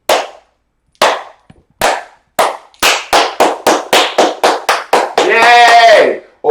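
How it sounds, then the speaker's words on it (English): Slow clap from a single pair of hands, sharp close claps starting widely spaced and then quickening into a rapid even rhythm, followed by a short burst of vocal sound at the end. "like a slow clap."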